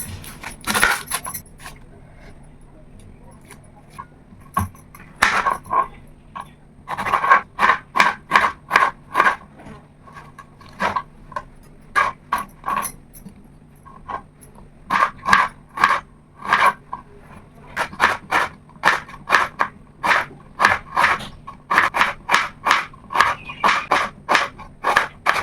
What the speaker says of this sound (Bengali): চলো পেঁয়াজ কাটছি গাইস